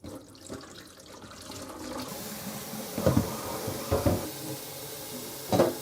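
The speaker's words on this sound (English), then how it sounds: "I'm gonna just put it under running water for maybe another 10 minutes or so" Running tap water rinsing sheets of developed 4x5 sheet film, a steady hissing flow with a few soft splashes and knocks.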